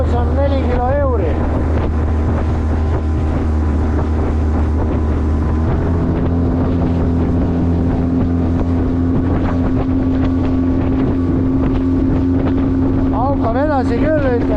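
A boat powered by a 15 horsepower outboard motor drones loudly and steadily underway, with heavy wind buffeting the microphone and brief voices over the engine noise.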